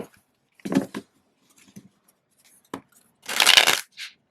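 A tarot deck being shuffled in short bursts: a riffle, a few light card taps, then a louder, longer riffle and a brief final flutter, close and otherwise quiet.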